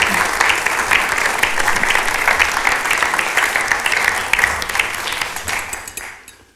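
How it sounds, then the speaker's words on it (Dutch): Audience applause for comics artist Peter van Dongen at a literary festival event, loud sustained clapping from a full hall that fades out at the end. "Dus ik zeg een applaus voor Peter van Dongen."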